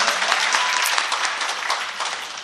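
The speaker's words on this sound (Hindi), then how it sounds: "एक बार जोरदार तालियां सोमा नायर जी के लिए" Loud, dense applause from the audience at a Deoband mushaira poetry gathering, close and continuous with crisp claps filling the whole moment.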